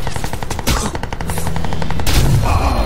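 SCAR rifle fire in Crysis 2, a rapid automatic burst of evenly spaced shots that is loud and close, followed by heavier blasts in the second half.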